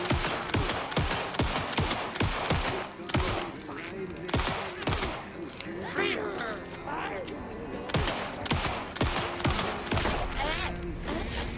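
Gunfire in the video game Alan Wake 2, loud rapid bursts of shots cracking one after another in dense volleys with mechanical clatter, close and continuous throughout, with talk audible underneath.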